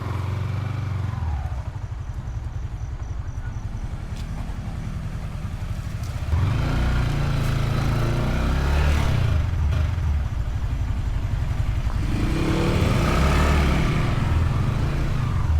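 Motorcycle idling and rolling through a paid parking area, a steady close engine rumble that swells as it moves on to find a spot.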